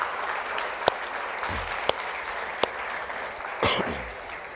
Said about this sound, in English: Can we give these people a big round of applause?